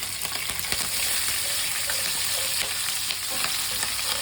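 Cumin seeds with green and dry chillies fry in hot oil, giving a dense, continuous loud sizzle close by, with occasional stirring scrapes and no voices.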